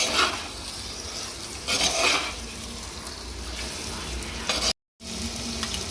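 Marinated chicken for handi chicken fries in a pan with a loud, dense, continuous sizzle and occasional stirring scrapes, close up, broken briefly by a moment of silence near the end.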